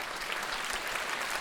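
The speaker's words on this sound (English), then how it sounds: "So let's give them a round of applause for supporting this event." An audience at a lecture on exercise in multiple sclerosis claps for event sponsors, with a brief, steady patter of many hands at moderate volume.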